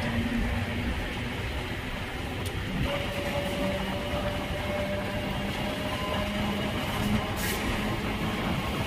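Passenger train on the Secunderabad to Siddipet line, a steady low rumble and rattle of running carriages heard from inside, with faint squealing tones and a few brief metallic clinks, no talk.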